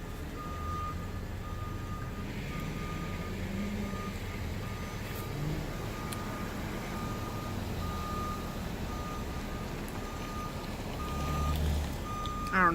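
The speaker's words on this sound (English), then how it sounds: "I don't know if y'all can hear that beeping." A truck's reversing alarm beeps at a steady, regular rhythm, moderately distant, over a constant low rumble of traffic and background noise.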